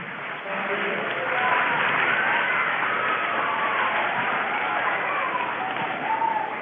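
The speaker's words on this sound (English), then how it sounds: "I don't know if the mic is picking up the cheers and the applause, Chris, but everyone loves that." Hundreds of Ontario schoolchildren at an assembly cheering and applauding, a dense, steady wash of crowd noise and clapping lasting several seconds, heard through a limited-bandwidth feed, with no single voice standing out.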